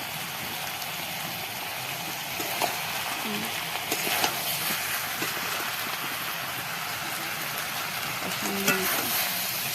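Chicken pieces and potatoes fry in a pan with a constant close sizzle, broken now and then by the scrape and clatter of stirring.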